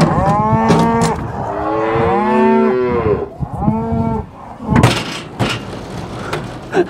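Cattle moo loudly and close by as cows and calves are let out to grass on a farm, several long drawn-out calls one after another, then scuffling and clatter.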